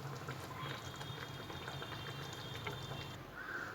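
Paneer butter masala simmers in a pan, a soft, continuous bubbling heard close but quietly throughout.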